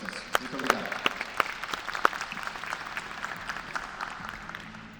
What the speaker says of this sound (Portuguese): E uma salva de palmas para os nossos palestrantes